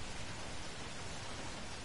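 Heavy rain in the video game Heavy Rain, a steady, dense hiss of downpour that holds evenly throughout with no talking over it.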